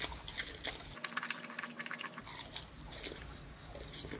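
Crunchy bites and close chewing of Doritos-coated boneless wings from Buffalo Wild Wings, a few sharp crunches followed by moist, irregular mouth sounds at close range, with no talking.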